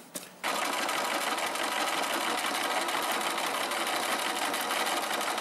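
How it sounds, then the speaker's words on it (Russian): A sewing machine stitches along marked lines on a leather wallet, starting after a brief moment and then running in a steady, fast, close mechanical whir to the end. "Будем прошивать вот по этим линиям, по нашей разметке."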